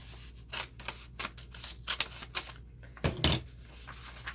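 Scissors snip through a paper sewing pattern piece, cutting it in half, in a series of short, crisp close-up cuts with paper rustling between them.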